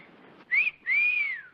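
A whistle sounds in a classic film as two bright, clear tones: a short rising chirp, then a longer sustained note that slowly falls, with quiet room noise beneath.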